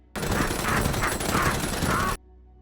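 Movie attack scene with apes firing stolen guns, a loud sustained burst of gunfire and chaotic blasts lasting about two seconds, with no speech.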